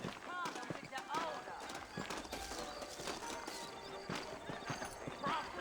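Horses in the video game Red Dead Redemption clopping and whinnying, with hoofbeats and neighs mixed among steady voices talking throughout.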